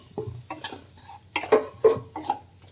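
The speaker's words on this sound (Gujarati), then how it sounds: "અને સારી રીતે હલાવી લેવાનું છે. બધો જ મસાલો કોટ થઈ જાય બટેટાને." A spoon scrapes and clinks against a pan while spiced potatoes are stirred over a low gas flame for bhungla bataka, giving several separate metallic knocks and scrapes against a quiet background.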